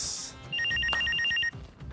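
A telephone rings with a bright, rapid electronic trill lasting about a second, loud and close, preceded by a brief hiss and followed by quiet room noise.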